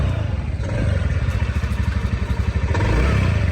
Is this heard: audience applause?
no